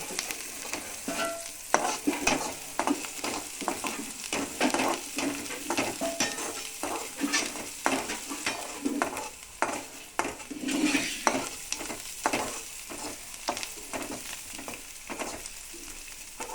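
Onions fry with a constant sizzle in a tempering of cumin and mustard seeds while a spatula stirs and scrapes the pan in an irregular, busy rhythm, close and fairly loud.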